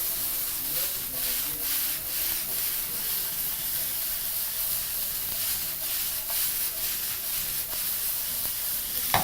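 Wet fry matumbo mixture being tossed in a hot pan over high heat, a steady close scraping, rubbing sizzle that runs continuously with faint clicks of the pan.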